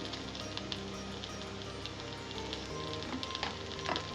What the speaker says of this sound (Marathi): आता हे आपण छान परतून घेऊया तिळाचा रंग बदलला की आपण गॅस बंद करूया